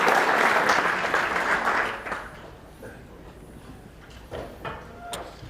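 Audience applause at a leakage technology conference, a loud burst of clapping for about two seconds that fades into scattered claps and room noise.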